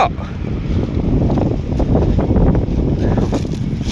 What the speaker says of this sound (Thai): อ๋อลมเลยเว้ย